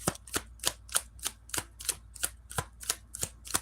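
Tarot cards are shuffled in a quick, regular series of about a dozen crisp snapping clacks, evenly spaced and close, with no speech over them.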